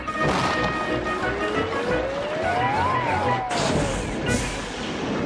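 A train brakes hard in a Thomas the Tank Engine crash remake. A squealing tone rises and then falls over loud rumbling, and the noise drops off abruptly near the end.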